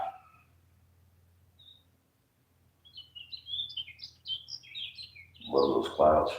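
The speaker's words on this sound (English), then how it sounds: "Birds chirping in the background." Small birds chirp and tweet outdoors in a quiet setting, a string of light, high calls rising gradually in the background before a louder thud-like sound near the end.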